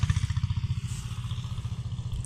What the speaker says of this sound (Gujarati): તો આપણે ટ્રેક્ટર આવે છે તો વાવી દઈએ